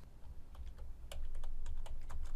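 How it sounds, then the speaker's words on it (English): Keys clack in quick, irregular taps on a computer keyboard as someone types text into an editor box, with a low steady room hum beneath and no talking. "and start typing."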